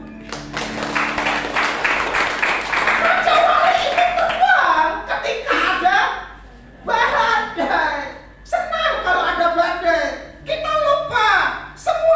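A church congregation claps and cheers in a dense, sustained burst of applause that fills the room, then breaks into uneven surges mixed with voices.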